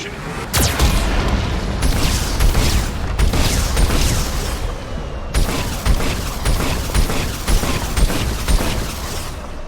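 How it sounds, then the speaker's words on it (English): A Geth cannon fires repeatedly in Mass Effect 2, with heavy booming blasts at roughly regular intervals over a constant loud rumble, and a synthetic warning voice faintly beneath. "Warning, Geth cannon is locking on our location."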